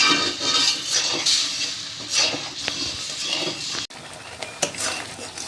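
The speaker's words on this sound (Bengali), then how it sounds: "আর আমি সবসময় নেড়ে চেড়ে নিচ্ছি" Raw mango pulp is stirred in a wok for aamsotto, a raw mango bar: a spatula scrapes and knocks against the metal in uneven strokes, close up, with a faint bubbling cook underneath.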